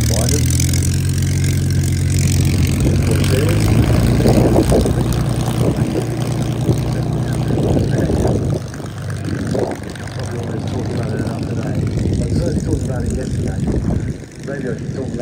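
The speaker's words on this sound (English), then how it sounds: "As we have the arrival of the Navy fighters, the US Navy fighters." US Navy warbird fighters arrive at an airshow, their propeller engines rumbling steadily and loudly under a commentator's voice, with the engine drone swelling and shifting as the aircraft pass.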